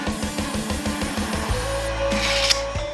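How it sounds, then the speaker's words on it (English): A saw trims thin slices off the sides of wooden coffee table legs, with quick rhythmic strokes that give way to a steady close power-tool whine. "I'm going to go back to each of the legs and I'm going to trim off probably about 1/8 of an inch off of each side"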